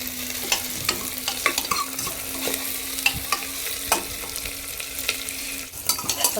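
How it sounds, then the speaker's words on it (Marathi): Onion with crushed ginger and garlic sautés in a pan, a steady sizzle broken by frequent scraping and clattering stirs spread across the whole stretch, close and moderately loud. "ते आलं लसूण मी ठेचून घेतले। ठेचून घेतल्यामध्ये चव चांगली लागते। ते चांगलं परतून घेऊया"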